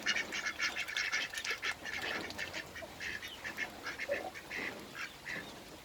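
Ducks, including a brown one, feeding at close range, with repeated quacks and busy dabbling chatter in irregular bursts throughout.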